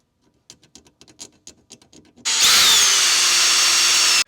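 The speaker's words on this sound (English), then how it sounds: "we went ahead and drilled our two holes down here" A power drill boring mounting holes for JB Products Kickback mudflaps, loud and close: a burst of steady high-pitched whine that runs about two seconds. Several short, sharp taps and clicks come before it.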